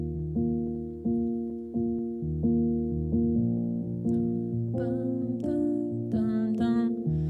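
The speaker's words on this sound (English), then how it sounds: "It's just a low pass piano sound." Low-pass filtered piano plays a repeating rhythmic chord pattern with muffled, dark attacks that decay between strikes, and brighter layered tones join partway through.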